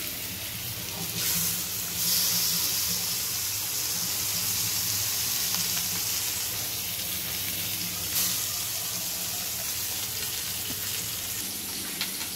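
Hilsa fish frying in a pan at home, a steady close sizzle and hiss of hot oil with soft crackles continuing throughout, no talking.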